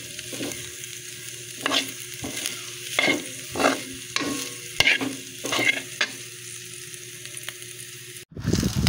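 Fried ground meat stirred into sautéed garlic and onion in a hot pan for kangkong Bicol Express, a close steady sizzle broken by repeated scraping strokes of a spatula roughly every second, ending in a sharp clatter.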